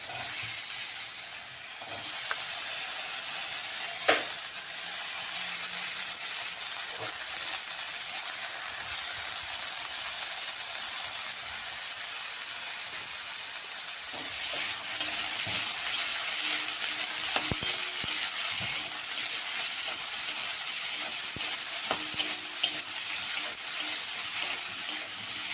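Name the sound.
eggplant frying in oil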